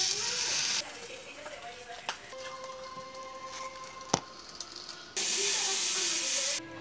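Pieces of bacon sizzle with a bright, hissing spatter that comes in two bursts at the start and end. The sound fades to a quieter stretch in between, where faint voices and a sharp click are heard.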